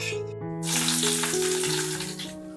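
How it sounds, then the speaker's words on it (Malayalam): Chopped onion hitting hot oil with mustard and fenugreek seeds, a sudden loud sizzle that bursts in and holds steady, with a sustained musical tone running underneath. "ഇനി നമുക്ക് ഈ സവാള നന്നായിട്ടൊന്ന് വഴറ്റിയെടുക്കാം"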